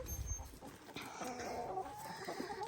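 Chickens in a backyard coop give soft, scattered clucks and low murmurs amid farmyard background noise, fairly close and with no one talking.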